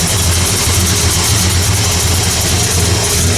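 A Chevrolet C10 pickup with a blueprint engine idles steadily at close range, a low, even rumble with a faint pulsing beat and no talk over it.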